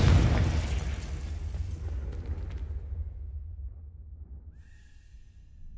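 A Confringo spell in the Hogwarts Legacy video game sets off a loud booming explosion at once, and its rumble slowly fades over several seconds, with a faint chime near the end.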